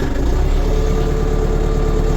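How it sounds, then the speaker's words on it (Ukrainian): A steady, loud, low diesel engine of a small LOVOL cab tractor idles evenly while warming up at close range, with no talking. "Зараз хай трохи погріється хай трохи нагріється двигун."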